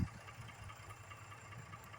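A low, steady tractor engine idle with a faint rhythmic knock, quiet and continuous throughout the short stretch.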